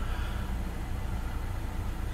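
A 2015 Honda CR-V AWD with CVT idles quietly and steadily, giving a low, even engine hum heard from inside the car with no talking.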